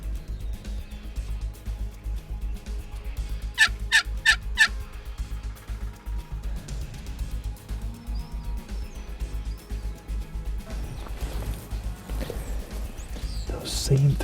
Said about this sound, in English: Those same 3 gobblers keep coming up to about 100 yards and going away.